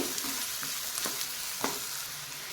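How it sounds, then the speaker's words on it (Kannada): Curry leaves and onion fry in hot oil for a capsicum gravy, giving a soft steady sizzle with a few sharp spatters and light stirring, quiet and close with no talk. "ಈಗ ಕರಿಬೇವು ಸೊಪ್ಪು ಮತ್ತು ಈರುಳ್ಳಿ ಚೆನ್ನಾಗಿ ಫ್ರೈ ಆಗಲಿ"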